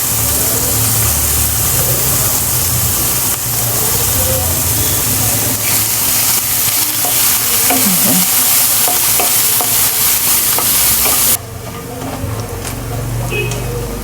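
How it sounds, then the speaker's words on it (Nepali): Chopped garlic frying in oil in a pan for molokhia saag curry, a steady loud sizzle with faint stirring scrapes throughout, dropping to a quieter hiss near the end. "अनि म यो लसुन पनि काटिसकेको छु। हेर्नुस्, र म यसमा अब हाल्छु।"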